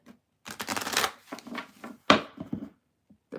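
Tarot cards are shuffled in several quick bursts of riffling, with a sharp snap partway through and short pauses between.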